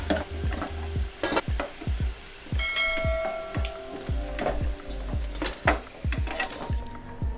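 Onion pakoda fry in hot oil with a close, crackling sizzle, broken by repeated clinks and scrapes of a utensil turning them in the pan.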